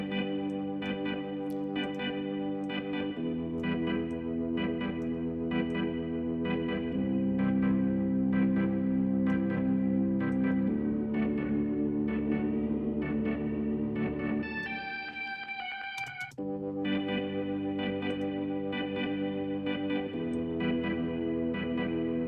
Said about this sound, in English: He's gonna have a little bit of a bigger reverb.